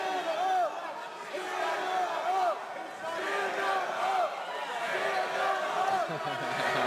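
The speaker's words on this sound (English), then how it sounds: "Crowd's getting a little restless right here." Spectators at a Cage Titans FC professional welterweight cage fight grow restless, their loud murmur and shouts forming a steady roar that swells and dips while voices call out over it.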